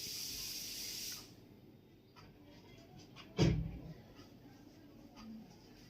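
A pressure cooker boiling potatoes vents steam in a sharp hiss that lasts about a second and then cuts off, leaving a quiet room with a brief thump.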